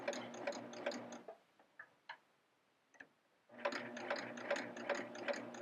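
A serger sewing machine stitches fabric in quick mechanical runs with a steady ticking rhythm, stopping for a quiet stretch with a few isolated clicks, then starting again, close and fairly quiet.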